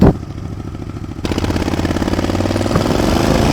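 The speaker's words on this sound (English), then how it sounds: "Still slipping the clutch. Clutch slips while it's real cold." A motorcycle engine running on a cold day while the clutch slips, a close, loud, steady rattling drone that rises and thickens partway through and then holds at a higher rev.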